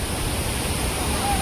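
Waterfall at a Konkan outing spot, a steady broadband rush of falling water filling the scene at constant loudness, close and continuous with no breaks.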